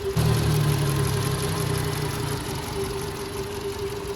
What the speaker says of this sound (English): As you can see, the engine is running just fine.